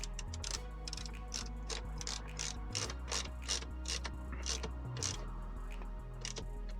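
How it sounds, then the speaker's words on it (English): A ratchet with a 10mm socket tightens a ground cable during a car boost gauge installation, giving rapid repeated clicking strokes up close, with short pauses between bursts. "we'll tighten this up. It's just a 10mm socket here."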